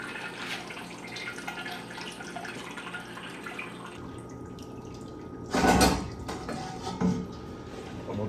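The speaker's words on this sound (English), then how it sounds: "we're just going to lift them up and let them drain." Brewing grains lifted from a pot of wort for a summer wheat homebrew, a burst of pouring, draining liquid splashing back into the pot, fainter drips and quiet kitchen clatter before and after.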